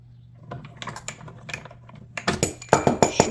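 A die cutting machine works through card, giving a run of dry, irregular clicks and clatters that grow louder and sharper toward the end.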